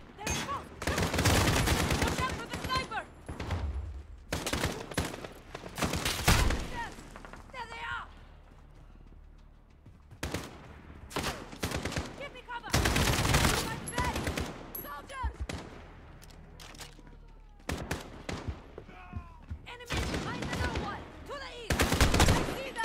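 Gunfire in the Call of Duty: Modern Warfare video game, with repeated loud bursts and volleys of shots broken by short lulls, heard under excited talk throughout.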